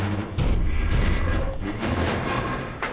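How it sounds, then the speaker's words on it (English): Heavy, booming bangs from an animatronic pounding on a door in the Five Nights at Freddy's: Help Wanted VR horror game, several loud thuds in an irregular run over a dense rumbling background. "Oh shit, he's banging on the door."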